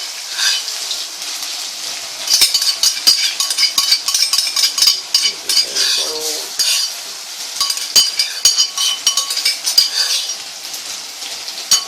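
Crushed ginger and garlic sauté in coconut oil while a metal spoon stirs and scrapes the pan in irregular clinks and rasps over a soft sizzle for chicken kadai.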